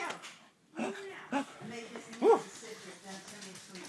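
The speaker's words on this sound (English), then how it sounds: "Brandon, be careful, that dog's unpredictable." A lively dog gives short barks and high yips in quick bursts, close by, mixed in with people talking and urging it on.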